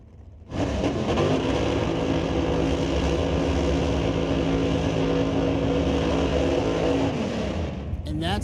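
A C. Econo dragster launching and racing down a drag strip at an NHRA Canadian event, a loud, sustained engine roar that starts abruptly, holds for several seconds, then fades as the car pulls away.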